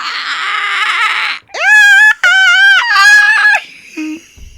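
A person imitates an eagle screech with a run of drawn-out, high, strained shrieks in three close bursts, loud and near, after a stretch of noisy voices.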